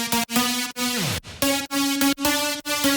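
Layered saw wavetable synth in Serum with unison detune, hyper stereo spread, distortion and compression, playing short bright chords with a pitch dive in the middle, loud and alone.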